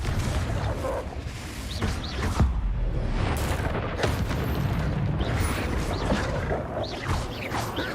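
Spell impacts and explosions crackle and thud in Hogwarts Legacy, a dense run of booms, crashes and sharp snaps layered over a constant rumbling game ambience.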